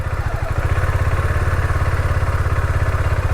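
Husqvarna motorcycle engine at low revs as the clutch is eased out, a loud, even, rapid thumping pulse that settles into a steady rhythm after a brief uneven start.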